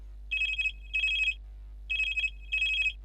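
Telephone ringing for a call into a farmers' radio phone-in programme, two double electronic rings with a short pause between them, clear and close over a low steady hum.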